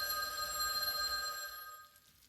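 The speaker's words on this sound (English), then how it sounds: "Telephone's perseverance was extraordinary. The longer it rang, the louder and more demanding it grew." An electronic telephone ring from the visual novel Mahoyo: Witch on the Holy Night, a shrill bright tone at moderate level that fades out toward the end, with no voices.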